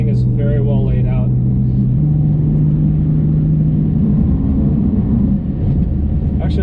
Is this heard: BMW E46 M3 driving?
yes